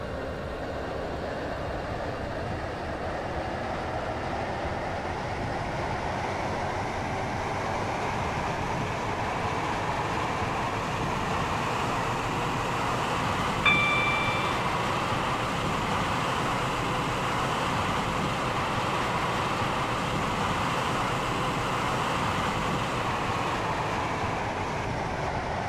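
A Stepford Connect passenger train in a video game runs steadily, a continuous rumbling roar with a slowly rising whine and one brief high chime midway, no talking.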